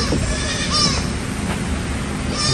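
A goat that has just given birth bleats briefly on a farm, a short nasal call over faint background noise and low murmuring.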